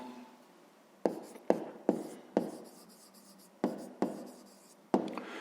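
A pen writes an answer on paper for a fifth-grade maths exercise, with several distinct taps as the pen strikes the page between short scratchy strokes, close and clear with no talking.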